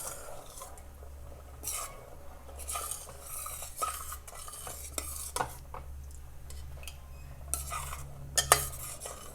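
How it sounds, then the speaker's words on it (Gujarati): Fried paneer being stirred into a Punjabi gravy in a pan, with a spoon scraping and clinking against the metal in quiet, irregular strokes and occasional sharper knocks. "પનીરને ગ્રેવી સાથે મિક્સ કરી લઈશું."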